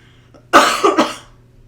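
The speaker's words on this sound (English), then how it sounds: "there might be some coughing" A single close, harsh cough with a rough double burst, followed by quiet.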